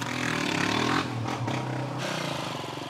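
Motorbikes and quad bikes rev loudly nearby during street rodeo riding, a rough buzzing roar that rises and dips with overlapping engine noise.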